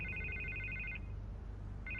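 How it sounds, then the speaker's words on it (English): A telephone in the Telltale Batman video game rings in a fast electronic trill, one burst followed by a short pause and the next ring beginning, faint over a low background hum. "I can't get the phone to stop ringing."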